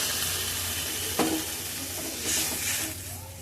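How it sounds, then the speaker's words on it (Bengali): A small amount of water hits a pan of sizzling cooked spices, a sharp hiss burst followed by steady frying sizzle and some stirring, close and moderately loud. "তারপরে এটার মধ্যে আমি জল ঢেলে দিলাম অল্প পরিমাণে।"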